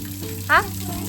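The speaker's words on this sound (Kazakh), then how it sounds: "Мына ашпа астын, сонда су толады ішіне." Water runs steadily into a bathtub in a continuous, even rush, with a child's short vocal sound breaking in briefly partway through.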